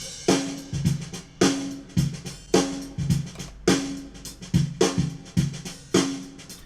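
A drum mix with Pro Tools D-Verb reverb added plays as a steady groove of loud, punchy kick and snare hits, each followed by a short reverberant tail, about two hits per second with no voices.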